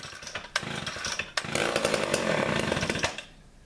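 A Homelite Big Red chainsaw starts up: a few sharp pulls on the cord, then the engine catches and roars loudly and steadily for about two seconds before dying back down.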